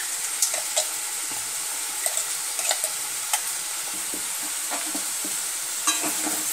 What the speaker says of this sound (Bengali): পোস্তর মিক্সচারটা দেওয়ার পর ভালো করে একটু নেড়ে নেব।